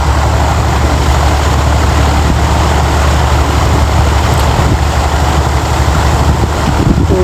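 A motorbike ridden in a video game gives off a loud, continuous engine drone that holds steady throughout, with no speech over it.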